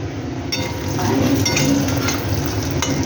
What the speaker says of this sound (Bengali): এই যে বড়িগুলো ভাজছি বড়িগুলো লাল লাল করে ভেজে তুলে রাখবো